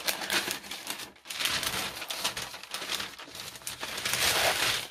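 Wrapping paper from a craft supply package rustles and crinkles loudly and continuously up close, with brief pauses between bursts of crackling.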